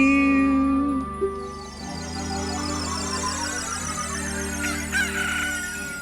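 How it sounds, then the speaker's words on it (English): Rooster crowing in The Legend of Zelda: Ocarina of Time, a game cock-a-doodle-doo sounding over steady game music and ambient tones, with a few brief chimes. "you hear the kadoo of the rooster"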